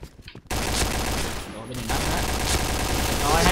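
Rapid bursts of AUG rifle fire in a video game, dense and loud after a short quiet start, with a brief pause midway, under a voice talking.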